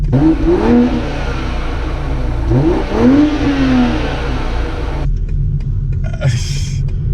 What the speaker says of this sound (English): And you hear that exhaust? You heard that exhaust, right?